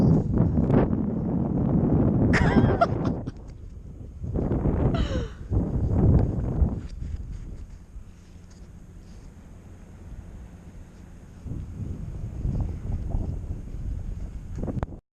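Strong wind blows across a high place 800 feet up in Avalon, buffeting the microphone in rough gusts. It eases and returns, with a few brief sounds from nearby people.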